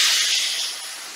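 Tamarind water poured into a hot pan on a stove sends up a loud, bright sizzle, a steady hiss that slowly fades over about a second, alone without talk.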